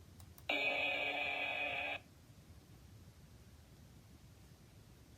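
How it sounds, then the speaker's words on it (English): Bell tone from a quiz example of a solid, stringless cymbal struck in the middle, ringing alone for about a second and a half with a bright, sustained metallic shimmer before cutting off. "or click in the middle to hear the bell sound."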